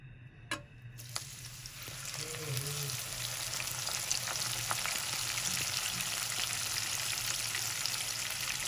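Three hundred grams of sliced onions fry in hot oil, a steady dense sizzle that starts after a couple of clicks and holds evenly loud throughout, with a faint low hum beneath.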